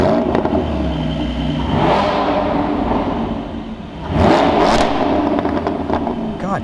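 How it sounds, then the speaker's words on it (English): A 2020 Porsche 718 Cayman GT4 with a Fab Speed Super Cup race exhaust revs loudly up close, rising and falling in throaty bursts with crackles, including a sharp surge partway through. "the Fab Speed Super Cup race exhaust that's bolted onto the car right now."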